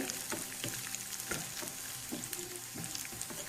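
Steady crackling sizzle of cashews frying in hot ghee, with occasional stirring scrapes, close and continuous with no talking.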